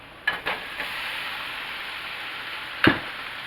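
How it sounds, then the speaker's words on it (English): Garlic sautéing in butter in a pan for shrimp scampi gives a steady close sizzle, with a few sharp clatters as the pan is tossed near the start and again near the end. "Toss that around for a few. Butter and garlic always smell delicious together."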